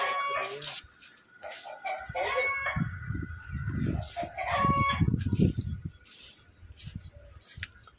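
A rooster crows loudly nearby at a zoo, with clucking chickens and other birds around it outdoors.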